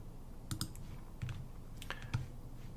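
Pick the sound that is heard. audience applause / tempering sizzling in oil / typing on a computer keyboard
typing on a computer keyboard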